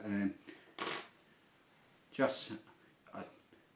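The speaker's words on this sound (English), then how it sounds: "Other thing I carry around with me, a couple of Allen keys." Small metal Allen keys from an air rifle hunting kit clink and rattle in a few brief, separate bursts, close and fairly quiet, with pauses between.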